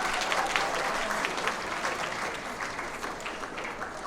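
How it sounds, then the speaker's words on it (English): A high school graduation crowd gives a sustained round of applause, dense, even clapping from many hands filling the room at moderate distance. "give a round of applause to your parents, grandparents, friends, and family"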